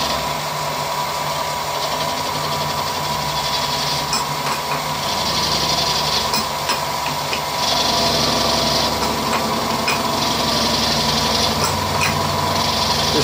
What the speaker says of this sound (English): This is a 17mm cutter and I want 17mm holes in here.